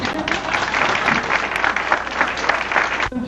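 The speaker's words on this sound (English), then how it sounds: "Let's give them a round of applause." Audience at a stage show claps loudly and densely for about three seconds, a full steady wash of applause that cuts off abruptly at the end.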